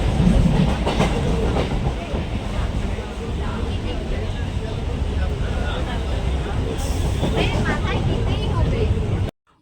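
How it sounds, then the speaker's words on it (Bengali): A Majherhat local train from Gobardanga rumbles along, heard from inside the carriage: a loud continuous roar with rhythmic wheel clatter, while passengers' voices murmur throughout. "আমরা এখন ট্রেনের মধ্যে আছি সকলে।"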